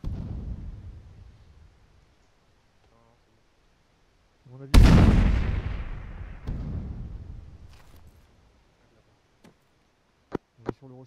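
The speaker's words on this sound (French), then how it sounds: "Je balance une greu." A grenade thrown and detonating in the military shooter Arma 3: a sharp, loud blast with a rumbling tail, followed by a second burst and a few distant sharp cracks.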